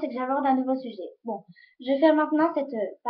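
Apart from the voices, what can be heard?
No distinct noise like a dog, phone or traffic.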